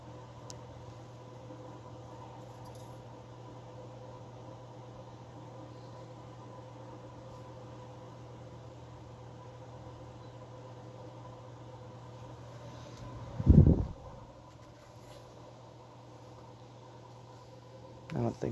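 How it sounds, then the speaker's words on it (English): An Emerson 24-inch circulator fan, its motor faulty and running on low, hums steadily with a constant low drone and tonal whine, broken by a brief loud thump near the end. "I don't think these motors were designed to go faster than this on low."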